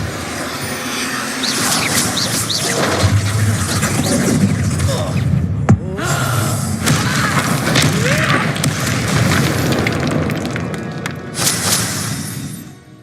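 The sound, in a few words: Depulso spell cast in Hogwarts Legacy video game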